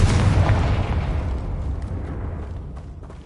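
Confringo fire-blast spell exploding in the video game Hogwarts Legacy: one loud, deep boom that hits at once and rumbles away over a few seconds, alone with no talk.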